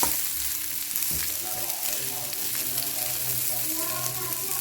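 Ginger pieces fry in a pan with a dense, constant sizzle and crackle close by, and a spatula occasionally stirs through the hot oil.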